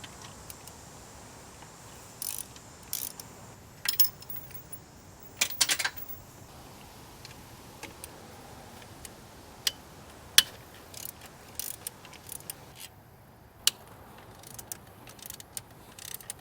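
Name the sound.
ratchet loosening bolts to remove Subaru top mount intercooler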